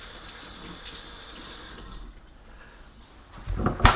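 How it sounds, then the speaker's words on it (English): Hands washed under a running kitchen tap, a steady close stream of water splashing into the sink that thins midway and then swells with louder splashing near the end. "So I'm washing my hands."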